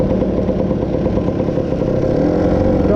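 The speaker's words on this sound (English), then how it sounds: "back off the throttle on mid-range, half throttle back off, to see if it actually picks up or bogs down slightly" A Lambretta scooter with a 185 Casa engine runs loud and close at mid-range throttle, a steady buzzing drone that rises slightly toward the end, with no talking.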